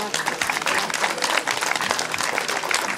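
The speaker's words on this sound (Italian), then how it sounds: "Un applauso ancora alle suore." Audience applause for nuns at a community gathering in San Gregorio, dense steady clapping filling the whole stretch at even loudness with some crowd murmur mixed in.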